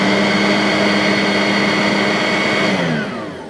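A Simplicity Freedom vacuum cleaner runs on its high speed setting, a loud, steady high-pitched motor whine with a broadband rush of airflow, close by and alone, dropping slightly in level near the end.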